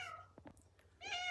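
A hungry house cat meows for food, two clear harmonic meows with a short pause between them, close and fairly loud, with faint rustling in the gap.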